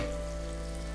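Garlic sizzles in a pan while curry cream mussels are being cooked, a faint, continuous crackling fry heard alone over a low steady background hum.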